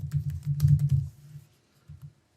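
A quick burst of close computer keyboard typing while entering a header into an Excel spreadsheet cell, followed by a short pause and two final keystrokes.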